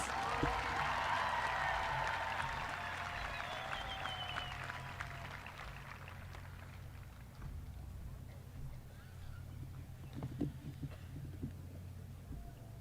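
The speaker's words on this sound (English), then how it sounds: "Please give them another round of applause." A graduation ceremony crowd applauds, the clapping strong at first and fading over several seconds into quieter room noise with a few scattered claps.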